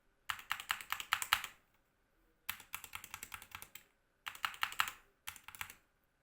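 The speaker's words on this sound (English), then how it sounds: "I'm gonna just go silent for a minute and then I'll just press the keys." Keys on a GK61 keyboard with optical Gateron Red switches are pressed in four quick bursts of rapid, close clacking separated by short silent gaps.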